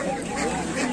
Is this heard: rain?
no